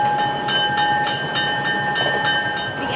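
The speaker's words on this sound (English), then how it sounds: "engine 703 makes its regularly scheduled stop at the station, ready to take passengers on board" Vintage train engine 703, built in the 1940s and pulling 1920s cars, stops at a station: a loud, continuous rail rumble with sustained high tonal squeal and faint periodic clatter throughout.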